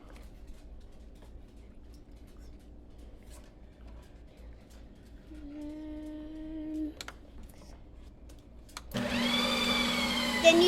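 Ninja Creami ice cream machine in a home kitchen, quiet hum and a brief tone, then the motor kicks on with a loud whirring, grinding drone near the end.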